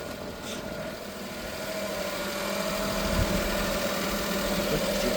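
A Suzuki dump truck engine idles steadily close by, a low even rumble with a constant humming drone and slight vibration, alone with no talk.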